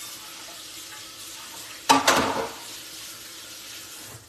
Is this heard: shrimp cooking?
yes